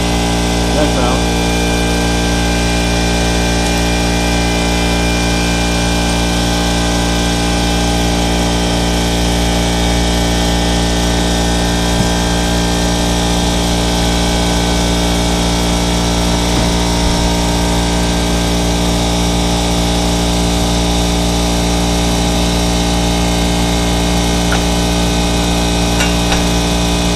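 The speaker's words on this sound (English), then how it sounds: "Let the compressor go down." Constant droning hum of an air compressor running in a garage during a CV axle replacement on a Ford Escape, loud and steady for the whole stretch, with occasional faint voices underneath.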